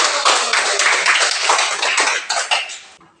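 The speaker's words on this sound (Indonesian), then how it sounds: "Tepuk tangan untuk kelompok 1." Schoolchildren in a classroom clap together for a student group, a brisk burst of close, bright hand claps lasting about three seconds before stopping abruptly.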